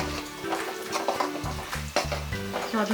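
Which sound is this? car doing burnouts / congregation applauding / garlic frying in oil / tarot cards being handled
garlic frying in oil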